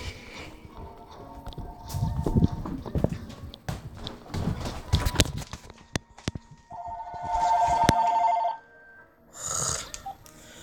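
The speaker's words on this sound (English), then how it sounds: "Phone call!" A telephone rings with a buzzy trilling bell about two-thirds of the way through, following assorted clattering and knocking sounds earlier, and a short second burst follows near the end.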